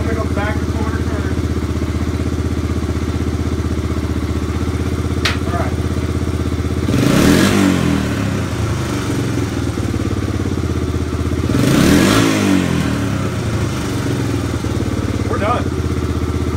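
A Honda Big Red ATC 250 ES three-wheeler engine with a clone carburetor idles steadily and close, then revs twice in rising bursts before dropping back to a steady idle.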